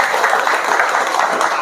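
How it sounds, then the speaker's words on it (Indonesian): Audience applause at an Indonesian religious gathering, a dense, steady wash of many hands clapping close by, filling the whole short stretch without a break. "tepuk tangan untuk kita semuanya"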